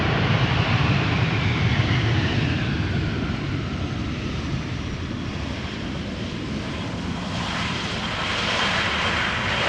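A Surinam Airways Airbus A340 roars in to land at Amsterdam Schiphol, arriving from the west, as a loud, sustained jet engine rumble that holds steady throughout with no talk.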